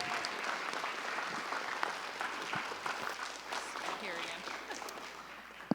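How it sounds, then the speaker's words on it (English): A high school audience at a business career panel day applauds the panelists, with sustained, fairly distant clapping across the whole stretch and faint voices mixed in, thinning slightly toward the end. "Let's give them all a round of applause,"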